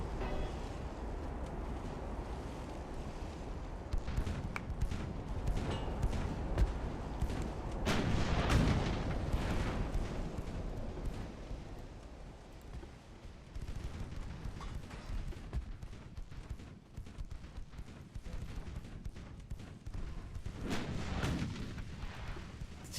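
Small warship guns in Ultimate Admiral: Dreadnoughts fire in repeated booming shots over a rumbling battle background, with a heavier cluster of blasts midway.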